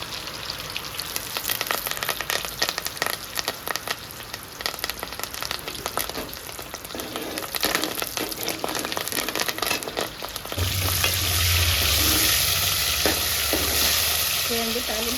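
Curry leaves and tempering spices fry in hot oil for menthi kura pappu, a loud steady sizzle with a spoon stirring through it, rising to a fuller crackling hiss near the end.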